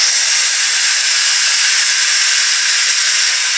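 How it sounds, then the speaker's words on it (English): An Instant Pot Duo Evo Plus vents steam through its quick release valve under a steam release cover, making a steady, loud, continuous hiss that runs unbroken from start to finish. "you'll have to push the switch from sealing to venting"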